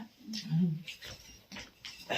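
A sick dog shivering from the cold gives soft, low whimpers and breathy whines in short bursts, close by and faint, with quiet human voices around.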